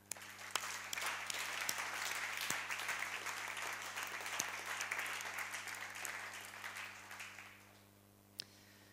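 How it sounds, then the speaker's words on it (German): Long audience applause at a startup founders' forum, dense steady clapping with sharp individual claps standing out, fading away toward the end over a low electrical hum. "alle, die mitgemacht haben, schon mal einen riesen Applaus verdient"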